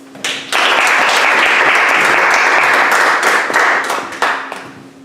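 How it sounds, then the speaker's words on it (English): A crowd bursts into loud, sustained applause, dense clapping holding steady for several seconds before tapering off. "Please, can we give him a round of applause?"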